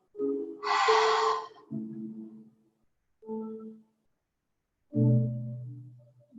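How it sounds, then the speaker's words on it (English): During a yoga class's relaxation, a person takes slow, deep breaths. Two long, audible inhale-exhale cycles are separated by quiet pauses, the breathing soft, close and voiced like gentle sighs, with no speech. "Deep breath in all the way. Exhale, let it all go."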